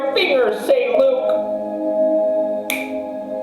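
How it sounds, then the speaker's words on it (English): A few crisp finger snaps sound close by, mixed in with a voice and tonal sounds. "Stop snapping your fingers, Seiluke!"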